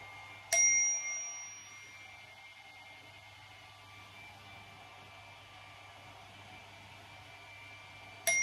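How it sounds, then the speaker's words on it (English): A chime rings once at the start and again at the end during an energy-clearing moment, each strike bright and sharp over a steady hiss from a hair dryer running in the background. "I wasn't sure if the chime was still going"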